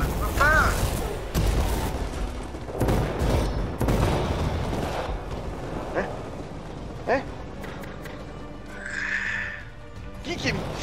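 Bursts of gunfire, crashes and booms from the video game Anthem punctuate the action, with people talking over the sharp, irregular impacts.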